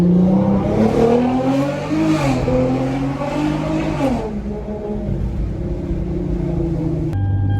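A Hyundai Genesis Coupe automatic's engine roars as it accelerates hard on a street, pitch climbing then dropping with gear changes, followed by a steadier lower drone up close.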